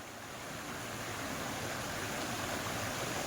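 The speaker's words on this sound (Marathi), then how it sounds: "तो आवाज येतोय पूर्ण पाण्याचा निखळ" Steady rushing water of the Kukdi River near its source at a small cave flows without pause, a broad continuous wash close by with no voices.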